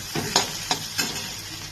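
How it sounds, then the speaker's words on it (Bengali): Steady sizzling from a hot pan of frying potatoes, with a spoon stirring in whole spices in three quick scraping strokes. No talking. "এবার এটার মধ্যে আমি আস্তা মশলাটা দিয়ে দেব দিয়ে এটাকে ভালো করে নেড়ে নেবো"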